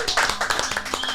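A short burst of scattered clapping from a small live audience, fairly faint, with voices mixed in.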